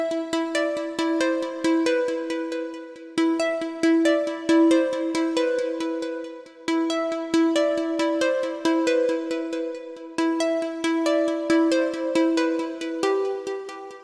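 A bright trance synthesizer lead plays a repeating, rhythmic melodic sequence of short plucked notes with rich harmonics, steady and loud throughout, with no voices.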